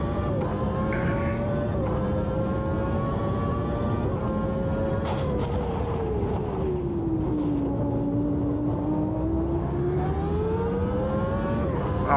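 A 1994 Williams Renault Formula car in Automobilista 2 drones with a loud, continuous engine note that climbs and dips through gear changes and corners, heard close and steady throughout.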